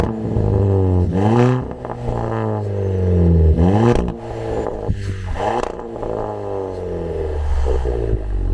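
A 2017 Volkswagen Polo 1.2 TSI with an aftermarket catback exhaust revs repeatedly, the engine note climbing and dropping in several loud, close blips over a steady idle.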